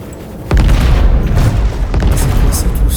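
A heavy, booming video game cannon blast hits suddenly and rolls on as a loud rumble, followed by another deep thud a moment later.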